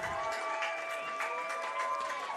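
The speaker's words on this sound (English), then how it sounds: "Crowd happy to hear that a penalty's been called on Graceland." A football stadium crowd cheers a penalty call with a broad, sustained roar and scattered applause heard from within the stands.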